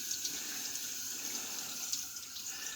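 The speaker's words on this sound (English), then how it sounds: "I was basically just letting the water hit here, running it around to get it off of the threads." A tap runs steadily while a shaving tub is rinsed clean, water splashing onto the tub in a constant bright hiss with small splashy flutters, close and alone.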